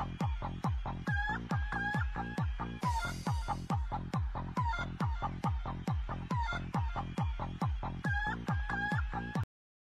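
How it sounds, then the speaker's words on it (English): Chickens cluck steadily in a loud, dense barnyard chorus while a rooster crows repeatedly over the top, with no talking and an abrupt cutoff at the end. "I'm talking about these chickens."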